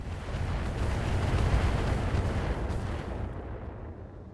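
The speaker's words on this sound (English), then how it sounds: "And here come the missiles." Incoming missiles exploding in the BattleTech mech combat game, heard as a loud, continuous rumbling barrage of blasts that fades out near the end, with no talking.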